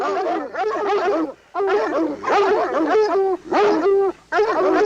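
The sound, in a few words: dogs barking on haunted house sound record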